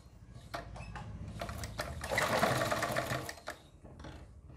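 A sewing machine stitches a patchwork neck onto a garment, running in a close, continuous whirring burst that swells in the middle and then slows to a stop, with no talking.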